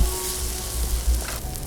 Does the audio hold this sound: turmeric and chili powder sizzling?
yes